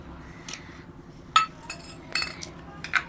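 A spoon clinks against a bowl in short, irregular taps while gram flour batter is mixed with salt and chili powder, faint taps over a quiet background.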